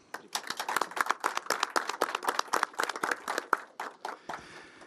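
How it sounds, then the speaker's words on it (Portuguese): Applause from a small gathering at a Brazilian debate marking the national day against benzene exposure, with dense overlapping claps of moderate loudness rising and then thinning out toward the end, with no voices over it. "E vamos dar uma salva de palmas a todos aqueles que lutam contra o benzeno."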